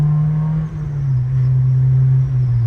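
A supercharged Honda S2000 accelerates with a loud, steady low engine drone heard from inside the car, rising slightly across a few seconds with no talk over it.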